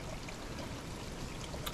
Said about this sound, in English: it's a huge cliff with a bit of a waterfall when there's enough water